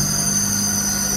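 Cold car engine idling with a steady droning hum and a continuous high-pitched belt whine over it, constant and close.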